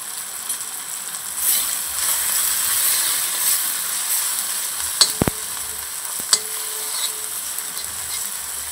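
A steady, close sizzle of turmeric and coriander-cumin powder frying in hot oil, with a few sharp clinks of a utensil against the pan around five and six seconds, and no voice.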